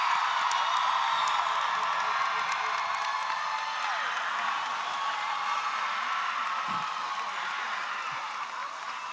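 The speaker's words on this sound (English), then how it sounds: "Let's give them one last big applause" Large audience at a high school graduation breaks into loud, sustained applause with whoops and cheering, a dense wash of clapping that holds steady and eases slightly toward the end.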